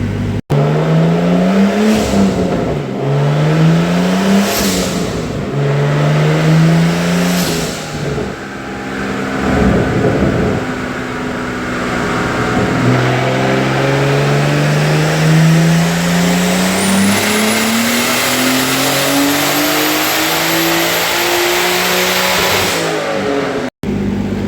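Turbocharged car engine with a SynGarage turbo kit at 21 psi revving hard on a dyno, several short rising blips followed by a long loud pull climbing steadily in pitch toward redline, close and alone.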